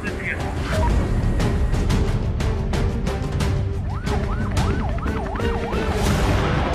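An ambulance siren at an airport during a health and security protocol simulation in Labuan Bajo, first as a steady tone among sharp clattering bursts, then wailing up and down repeatedly, with voices talking over it.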